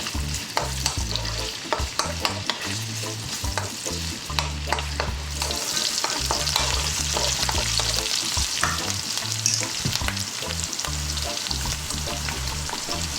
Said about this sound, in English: What we're going to do is throw them around in this hot oil for 2 to 3 minutes.